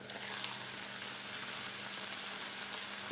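Chopped onion and grated coconut fry in a pan, giving a steady, fairly soft sizzle that runs on its own with a small clunk at the very end.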